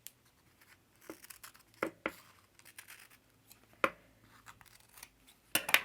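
Scissors trimming decoupage paper for a journal page, a few sparse close snips and light paper rustles separated by quiet gaps, with a quicker flurry of cuts at the end.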